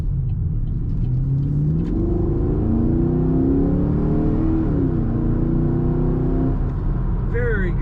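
A 2010 Chevrolet Camaro SS engine revs up and accelerates, its rising drone climbing steadily in pitch, loud and close, with a brief whine near the end.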